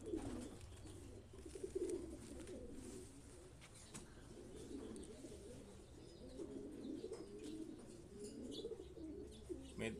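Soft, low cooing from racing pigeons arriving from a race repeats throughout, with faint chirps and occasional wing flutters in the background.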